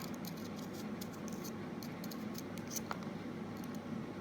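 A knife tip working into a carrot to carve a flower, close, faint crisp little cuts and scrapes in irregular clusters over a low steady background hum.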